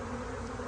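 Honey bees buzzing in a steady, continuous drone with a dense, even hum, close and moderately loud for a brief moment with no talking.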